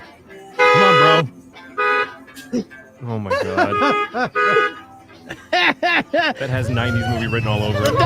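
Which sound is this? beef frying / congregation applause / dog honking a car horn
dog honking a car horn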